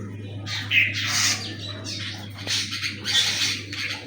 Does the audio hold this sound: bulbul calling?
yes